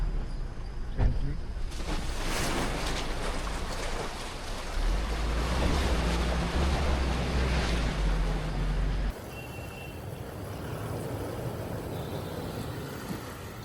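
A steady roar of a 2025 Toyota Hilux Black Edition pickup pushing through a water crossing off-road, with rushing and splashing that shifts partway through, continuous and fairly loud.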